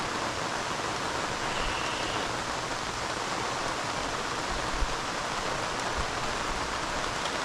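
Steady rain pours during a solo camping trip, a dense, even hiss of falling drops that holds constant with no breaks, close and enveloping, without any talking.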